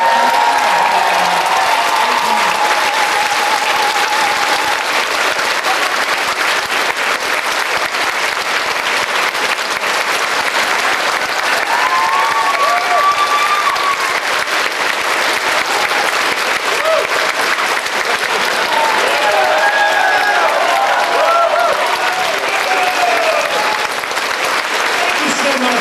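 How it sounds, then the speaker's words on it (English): Convention audience applauding a voice actor at a Transformers fan panel, long, dense, sustained clapping from a large crowd with scattered voices and cheers mixed in. "Are you going to clap or what?"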